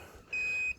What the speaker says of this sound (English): I've just got the beeper on the indicators